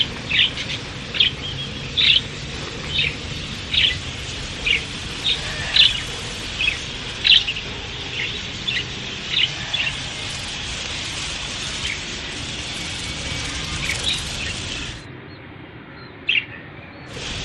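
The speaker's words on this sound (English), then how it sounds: "Budgies arrive in flock after flock." A flock of wild budgerigars in Australian spinifex grassland chirps in quick, repeated bright calls over a constant noisy rush, growing dense and busy before thinning out near the end.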